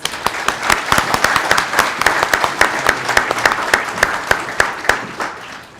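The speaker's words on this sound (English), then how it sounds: "Let's give him a round of applause." A room full of attendees at an employee recognition and awards ceremony claps steadily, with sharp individual claps standing out from a broad, even round of applause that runs the whole time.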